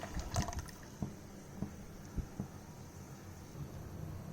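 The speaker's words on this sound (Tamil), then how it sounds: "இப்போ 1 கிளாஸ் தண்ணி இதில் ஆட் பண்ணியிருக்கேன்." A glass of water poured into a pot of boiling fish curry with masala, small onion and tomato paste, giving a soft, quiet liquid splash with a few faint gurgles and clinks, close by and without talk.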